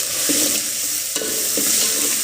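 Ivy gourd, garlic and onion are stirred into hot oil for a tempering with mustard seeds, cumin and curry leaves, giving a steady loud sizzle broken by a few sharp scrapes of the spoon in the pan.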